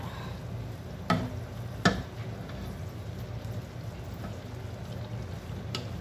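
Molokhia (saluyot) leaves stirred while cooking in a pan, a steady quiet sizzle with two sharp utensil clacks early on and a fainter tap near the end.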